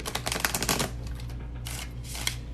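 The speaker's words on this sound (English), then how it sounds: "deck is incredibly hard to shuffle" Cards riffle-shuffled in a quick burst of dense flutter, then a pause and a second shorter riffle, close and fairly loud.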